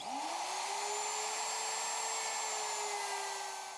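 A router profiles the edge of a wooden trim board, fed left to right, giving a steady, loud high-pitched whine that holds unbroken throughout with no voices.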